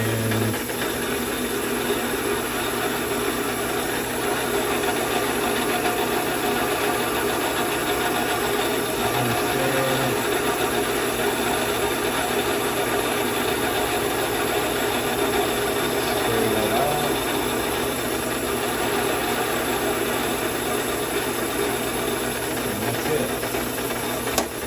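A reamer cuts the inside of a shotgun barrel to take a screw-in choke, giving a steady, continuous grinding machine drone with faint low hums, close and unbroken throughout.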